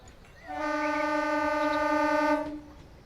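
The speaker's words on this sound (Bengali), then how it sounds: "ট্রেন ঢুকে গেল।" A train horn sounds one steady, loud blast lasting about two seconds as the train pulls into a station, rising in and cutting off cleanly against quiet surroundings.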